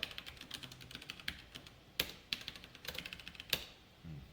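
Quiet, rapid tapping on a computer keyboard while typing a post, with uneven bursts of clicks and a few sharper key strikes, close and alone.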